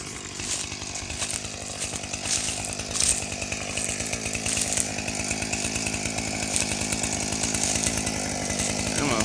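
A chainsaw runs steadily and loudly close by beside a tree, its engine buzz constant for the whole stretch with a few brief higher whines rising over it.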